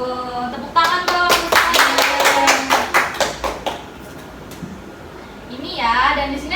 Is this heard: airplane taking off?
no